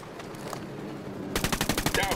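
Automatic gunfire in Ghost Recon Wildlands on PlayStation 4, a rapid rhythmic burst of loud shots that starts partway through and follows quieter game ambience.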